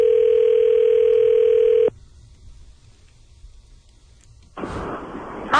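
A loud, steady electronic telephone ring tone sounds for about two seconds, followed by a quiet pause, then another burst of tone near the end.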